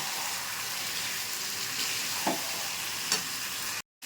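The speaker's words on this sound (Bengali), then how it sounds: "লো হিটে আমি ফোড়নখানে কষিয়ে নিলাম" Spices and chicken for a red chicken curry frying on low heat in a pressure cooker, a steady close sizzle with a couple of soft scraping stirs.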